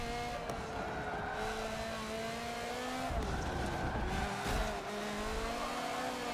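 Race cars, including a BMW, drift through a corner in an endurance race in a racing video game, with a steady engine drone and sustained tire squeal, plus a brief dip and shift in the engine note midway.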